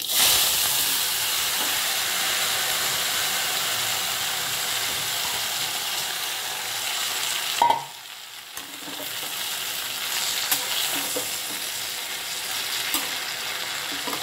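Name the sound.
curry leaves sizzling in hot oil tempering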